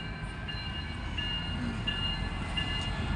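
A long freight train rolls past on its way toward Canada, a continuous low rumble of rail cars with faint recurring high tonal squeals over the steady clatter.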